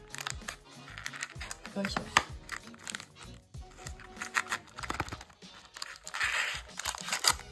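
A packaged snack box is torn open by hand, giving a close run of crinkling, tearing and rustling packaging noises, with a voice briefly speaking over it.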